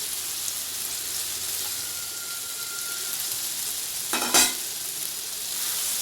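Mango pieces for maangai thokku sautéed and stirred in a pan over low heat with salt, turmeric, mustard seeds and asafoetida, a steady soft sizzle with a brief louder scrape of stirring near the end.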